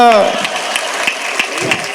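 Audience at a Hindi kavi sammelan poetry gathering breaking into a burst of applause, loud and close, with a sustained voice at the start and sharp individual claps sounding through the clapping.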